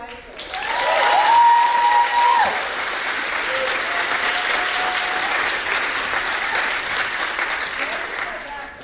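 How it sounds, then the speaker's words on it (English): A large audience at a student awards ceremony gives sustained, full applause for a high school jazz quartet, steady and loud across the room, with a voice speaking briefly over the clapping at the start. "amazingly large applause for our Bayside Quartet from Berkeley High School"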